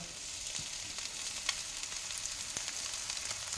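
Steady, soft sizzling of flattened rice frying in ghee, with a few light scrapes and clicks from stirring.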